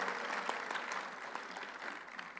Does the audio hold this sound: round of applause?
yes